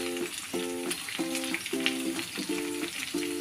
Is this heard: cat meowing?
no